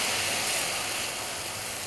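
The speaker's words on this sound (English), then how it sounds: "So we're going to deglaze it with a little white wine." White wine sizzles as it deglazes a hot pan of caramelized spring vegetables for pasta, a steady close hiss with a faint rumble beneath that eases slightly toward the end, with no voices.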